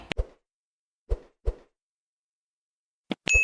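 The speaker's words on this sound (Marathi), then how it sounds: "त्याच्यात आपण पिठाचा गोळा टाकून बघूया असे हळूहळू बबल्स आले पाहिजे" Small khoya dough balls for gulab jamun drop into hot oil, making a handful of soft, close plops spaced irregularly with near-silence between them.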